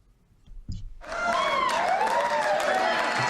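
Studio audience at the end of a live show, starting with a few scattered claps and then swelling into loud, sustained applause and cheering that fills the room, with excited whoops rising over it.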